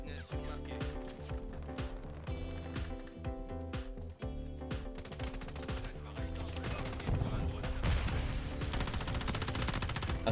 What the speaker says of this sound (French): ça tire là-bas